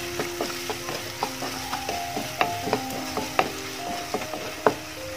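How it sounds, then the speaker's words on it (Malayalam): Sliced onions sautéing in a pan for Kerala-style chicken fry masala, a spoon stirring and scraping in quick irregular clicks over a low steady sizzle, close and fairly loud. "ഇനി നന്നായിട്ടൊന്ന് വഴറ്റിയെടുക്കാം."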